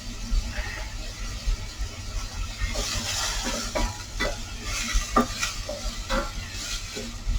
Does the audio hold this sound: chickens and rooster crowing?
no